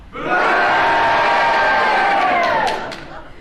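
A studio audience breaks into a loud cheer, with massed whoops and yells that swell quickly, hold for a few seconds and then fade.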